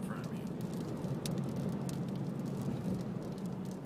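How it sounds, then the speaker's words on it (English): Dust and small rocks pelting a car windshield while driving through a dust storm in Arizona, a dense continuous crackling patter over steady road rumble, close and unbroken. "can hear all the dust and rocks and stuff bouncing off the windshield."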